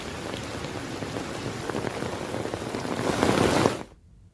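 Heavy rain falls steadily in Panchmahal during a windy monsoon downpour, a dense continuous wash that swells louder near the end before cutting off abruptly, with no voices.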